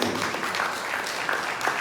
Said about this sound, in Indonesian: tepuk tangan dulu untuk kami STK Maukeli